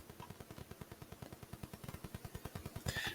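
Gunfire in Palworld rattles as rapid automatic bursts, an even stream of sharp thumping shots at a steady clip, somewhat distant and muffled, ending in a louder rushing swell.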